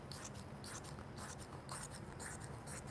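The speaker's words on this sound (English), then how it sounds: "And then I take my scissors and I just cut out" Scissors cut through quilting fabric while rough wedge shapes are trimmed out, giving a steady close run of soft rasping snips that repeat in quick bursts over a low background hum.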